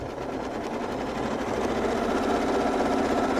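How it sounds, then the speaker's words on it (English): A sewing machine quilting along a ruler, a steady, close, rapid mechanical stitching hum with no voices. "Realign the ruler so it's touching the foot, put my needle stop along that seam, and then quilt until I hit the seam"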